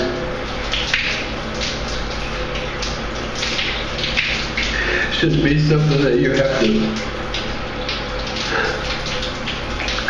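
Hot water running in a steady loud rush with a faint gurgle partway through, while someone speaks over it.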